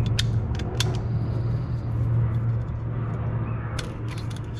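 The key cylinder mechanism on a Jeep Wrangler TJ steering column gives a few sharp, close clicks and creaks over a low steady hum.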